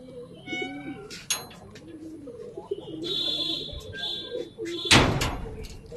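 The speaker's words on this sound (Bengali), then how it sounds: "কবুতরগুলো দেখতে পাচ্ছেন।" Pigeons coo softly in a rooftop pigeon house, with a voice speaking nearby, a few clunks, a loud sharp bang near the end, and a brief squeaky sound mixed in.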